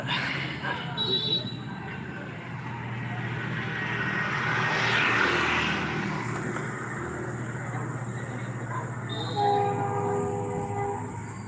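A train rolls past on the line near Kallal Road during a Palani pilgrimage walk, with a steady broadband rumble swelling in the middle and short horn blasts near the start and end. Faint voices sound beneath.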